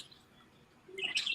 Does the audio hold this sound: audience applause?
no